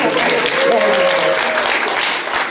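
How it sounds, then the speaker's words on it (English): A concert audience at the MFF 2022 furry convention breaks into steady, dense applause, loud and close, with a faint sustained tone drifting through the middle. "A round of applause works too."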